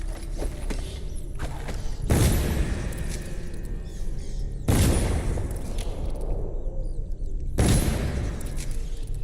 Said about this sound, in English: I'm just gonna explode them.